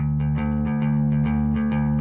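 Electric bass run through United Plugins Quick Bass overdrive, split so the grit sits mostly on the upper bands: a sustained, buzzy distorted bass line with a steady low fundamental and rhythmic note changes pulsing roughly every third of a second, close and loud.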